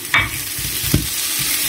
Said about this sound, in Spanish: Y ahora lo interesante es sofreír, mezclar bien y sofreír todo junto